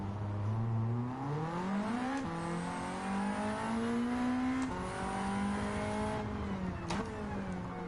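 Ford Sierra RS500 racing in Gran Turismo 7, its engine note sustained loud and close, rising then dropping sharply as it brakes hard and downshifts, with a faint tire squeal.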